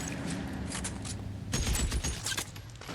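Gunfire in the video game L.A. Noire: scattered shots at first, then a louder cluster of booming reports in quick succession, heard alone without talk.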